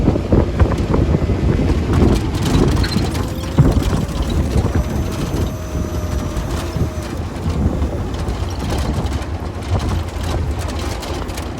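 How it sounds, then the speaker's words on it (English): A 1958 Series 1 Land Rover 109 slows on its gearbox, with a loud continuous engine and drivetrain rumble, a whining gear note, and wind buffeting the microphone throughout. "I'm Still cautious and using the gearbox to slow down."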